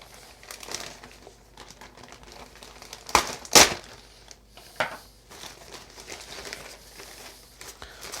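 Crinkling plastic rustles quietly, then a few sharp, loud crackles and a tearing rip as a package is pulled open up close.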